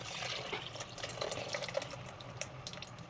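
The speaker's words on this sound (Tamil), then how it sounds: "இப்போ புளியை ஊற்றிக்கலாம்." Tamarind water being poured into a pan of spicy, tangy fish curry, a steady liquid trickle with small splashy drips, faint and close, with no talking.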